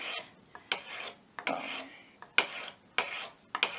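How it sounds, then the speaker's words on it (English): A burnisher is drawn along a card scraper edge in repeated short scraping strokes, about eight rasping passes at an uneven rhythm, close and fairly quiet. "I'm going to keep burnishing until I feel a burr."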